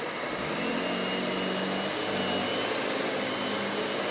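A Hoover WindTunnel Anniversary Edition S3670 canister vacuum running with its power brush on, a loud, steady, close-up whooshing drone with a faint high whine and no talking.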